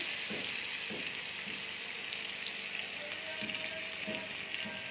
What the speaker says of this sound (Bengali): তেল দেখো গরম হয়ে গেছে, এবার আমি আলুটা দিয়ে দিচ্ছি